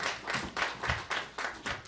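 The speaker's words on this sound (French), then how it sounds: "On les applaudit." An audience at a New Year gathering claps along in a steady, rhythmic pattern of loud, fairly close bursts, about two per second, with no talk over it.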